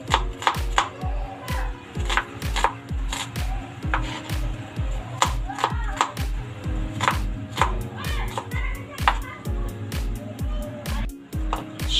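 Onion being chopped with a knife on a cutting board for chicken adobo, a steady run of close, sharp, evenly spaced cuts with slight pauses, no talking.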